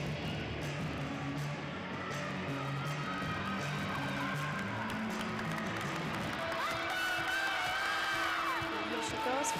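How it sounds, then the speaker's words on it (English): Teammates whoop and cheer for a gymnast at an NCAA college gymnastics meet, a steady crowd roar with rising shouts and a few claps, voices mixed throughout. "Teammates cheering her on as she gets ready."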